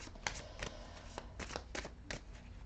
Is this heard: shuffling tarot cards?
yes